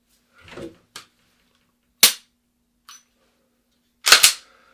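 Handgun shots during defensive shooting practice, a few sharp separate cracks spaced about two seconds apart with the last one loudest, with quiet gaps between them.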